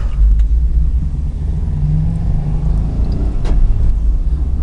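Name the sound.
old Subaru driving in four-wheel drive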